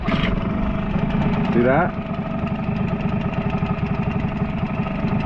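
A HANGKAI 6HP two-stroke outboard motor restarts while still warm and settles into a steady, buzzing idle with a fast regular pulse, loud and close, as a person speaks briefly over it.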